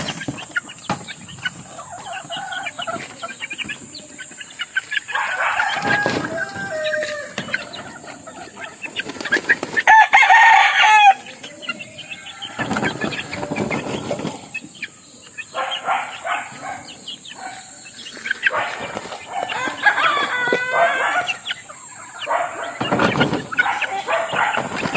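Backyard chickens cluck and a rooster crows at close range, mixed with dog barks and scattered bird calls in a busy, lively yard.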